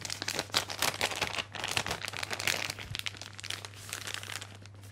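A plastic piping bag crinkles and rustles as it is filled with soufflé mixture, close and fairly soft, with irregular crumpling bursts and a low steady hum underneath.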